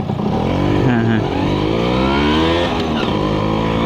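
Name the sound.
Suzuki Crystal motorcycle engine during test ride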